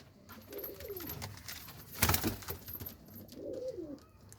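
Several pigeons coo steadily in low, rolling phrases from nearby, a trader's birds kept for sale in Faisalabad, with a brief louder rustle midway and no talking.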